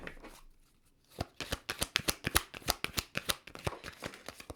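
Tarot and oracle cards being shuffled by hand, a quiet pause and then a rapid run of crisp, rhythmic riffling slaps, close and fairly soft.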